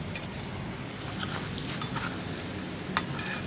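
Mawa, or milk solids, roasting in ghee in a pan while being stirred, giving a steady soft sizzle with scattered scraping ticks and one sharper clack near the end and no talking.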